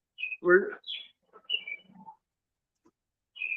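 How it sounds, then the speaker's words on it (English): Several short, high bird chirps and calls come in scattered bursts against near silence, with a faint voice briefly heard between them. "Is that a bird?"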